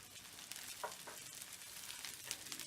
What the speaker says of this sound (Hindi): अब हम इसमें पुदीना और ग्रीन चिली को ऐड करेंगे और फ्राई करेंगे।